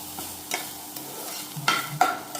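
A large chilli fries in hot oil, a low crackle punctuated by a couple of sharp spattering pops and stirring clicks, close and fairly loud.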